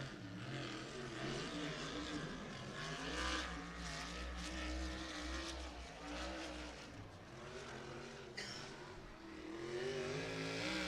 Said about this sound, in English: the sweet sounds of a 410 sprint car return to the racing surface